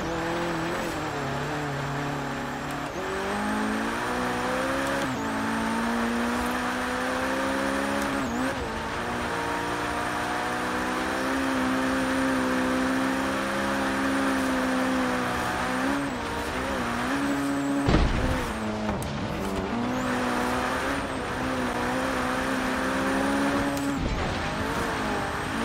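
An Abarth Fiat 131 rally car in Forza Horizon 3 drives hard for the whole stretch, its engine droning steadily with rising and falling revs through gear changes, a brief dip and tire noise near the end, and no talking.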